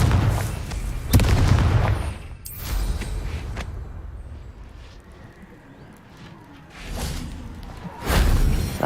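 A Confringo blasting spell explodes in Hogwarts Legacy, with loud bursts near the start, a sharp crack around the one-second mark, and a final heavy boom near the end, separated by a lower rumbling tail.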